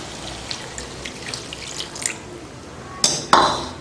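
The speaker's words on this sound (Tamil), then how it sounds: "கொஞ்சம் தண்ணி சேர்த்துக்கலாம்." Water trickles and splashes softly into a pan of simmering chicken and green pea gravy, then two louder pours land near the end, with faint clinks of metal.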